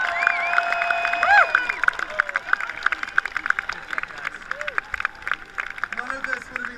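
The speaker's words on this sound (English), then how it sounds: "Give yourselves a round of applause." Crowd applause at the 2014 Invictus Games, a large outdoor audience clapping steadily with scattered cheers and whistles, fairly loud and continuous throughout.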